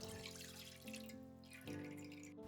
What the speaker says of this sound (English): I return the sauce to the pot.